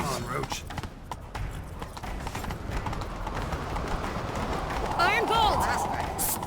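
Roach, the horse in the video game The Witcher 3, gallops in a rapid, continuous drum of hooves over rough ground, with a voice briefly rising over the pounding near the end.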